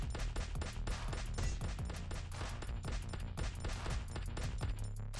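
A VSS rifle in the game Free Fire fires a rapid string of about 21 evenly spaced shots, loud and close, each crack following quickly on the last with no talking over it.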